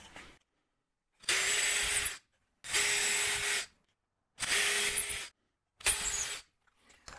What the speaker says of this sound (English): And I'll drill a clearance hole for the screws I'll be using.